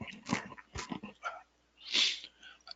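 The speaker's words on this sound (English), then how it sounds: "I had a little sneeze attack there" A single quiet sneeze from a person having a small sneezing fit bursts out after a few soft breaths and sniffs, heard close by with no talking around it.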